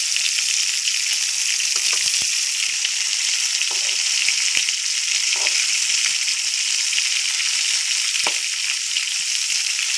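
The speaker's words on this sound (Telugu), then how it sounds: "స్మూత్గా కలపాలండి ఎక్కువ ప్రెషర్ కాకండి" Eggplant curry in plenty of oil sizzles loudly and steadily while being stirred gently, a dense close frying hiss broken by soft scraping strokes of a spoon.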